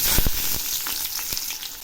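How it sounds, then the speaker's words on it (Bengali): A dry red chili crackles and sizzles in hot oil with bay leaf and green chilies, a steady loud hiss broken by a few sharp pops near the start. "তেল গরম হয়ে গেছে, এখন আমি একটা শুকনো লঙ্কা ফোড়ন দিলাম"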